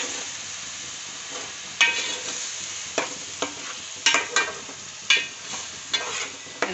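Onion with fennel and fenugreek frying in oil in a pan for Tamil Nadu fish curry, a constant sizzle broken by repeated sharp scraping stirs every half second or so, close and alone.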